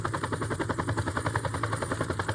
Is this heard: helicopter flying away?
yes